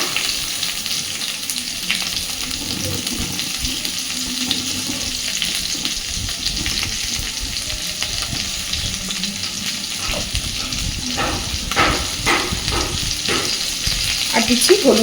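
Cut eggplant and ordinary potato fry in a pan with steady broadband sizzling and occasional stirring scrapes, growing slightly louder toward the end, with no talking.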